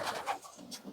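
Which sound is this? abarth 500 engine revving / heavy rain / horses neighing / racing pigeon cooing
racing pigeon cooing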